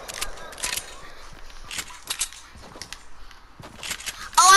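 Gunshots in a Fortnite match: scattered sharp cracks and pops at mid distance, spaced irregularly, with a louder close shot at the end and light talk now and then.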